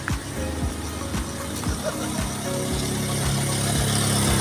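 A motorcycle engine runs with a steady mid-pitched hum and some vibration, building slightly louder toward the end, with faint talk in the background.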